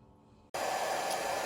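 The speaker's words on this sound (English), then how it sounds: "This is my just hair dryer I have on low." After a moment of quiet, a hair dryer on its low setting switches on and blows with a steady, even whoosh that continues to the end.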